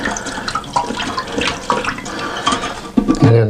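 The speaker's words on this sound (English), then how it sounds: "we want to try to get just as much water out of this tank. Just kind of slosh it around over there." Water sloshed around inside a toilet tank during a fill valve repair, irregular close splashing and gurgling with a heavier slosh near the end, no talk.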